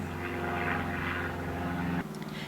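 A propeller airplane drones overhead during outdoor garden work, a steady, loud engine hum filling the whole clip without any voices, then it eases slightly toward the end.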